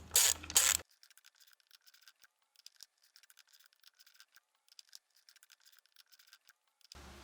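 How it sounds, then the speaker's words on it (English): A ratchet wrench loosens 10mm grounding bolts on a 2000-2006 BMW 325i, a brief loud burst followed by a long run of quick, faint, even clicks nearby. "all these other bolts are 10mm, so I'll start with the 2 grounding ones on either end."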